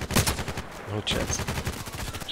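Rapid automatic gunfire bursts from the online shooter Contract Wars, dense repeated cracks running through the whole stretch with a couple of sharper shots standing out, loud and close.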